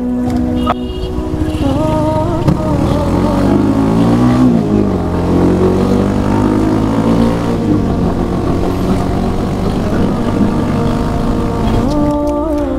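A motorbike ride, with the engine droning steadily and rising and falling in pitch as it accelerates and shifts, loud and close throughout with wind rush.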